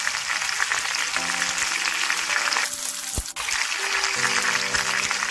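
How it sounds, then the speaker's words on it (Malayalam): A whole chicken fries in hot oil in a pan, giving a loud, continuous sizzle with one sharp knock partway through and no talk. "ഇതുപോലെ നല്ലതുപോലെ ഫ്രൈ ചെയ്ത് എടുക്കണം."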